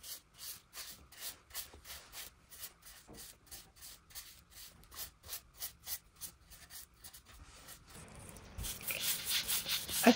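A paintbrush works paint onto the legs of a wooden folk-art side table turned upside down, with light rhythmic strokes repeating steadily at close range, growing a little louder and scratchier near the end.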